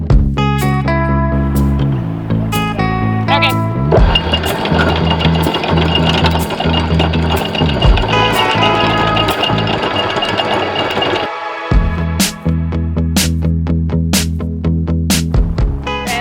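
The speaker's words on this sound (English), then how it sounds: "Sometimes I forget to loosen up the brake, and Riley does too. And the windlass does not like that at all." An anchor windlass on a boat grinds and labors loudly under strain with its brake still engaged, a steady, heavy mechanical drone with rhythmic knocking that drops out briefly near the end and then resumes.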